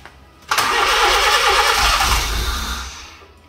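An engine turns over with a sudden loud burst, a steady roar holding for a couple of seconds before slowly tapering off, no voices.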